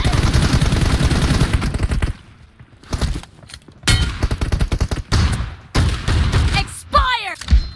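Shotgun blasts in PUBG Mobile, heavy single booming shots spaced apart between quieter gaps, with a burst of rapid fire at the start, close and loud, with a voice talking at times.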